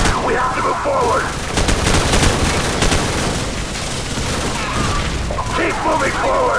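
Dense gunfire from the Call of Duty 4: Modern Warfare Bog mission on PC, a steady wash of rifle bursts and booms with shouted voices breaking through at the start and end.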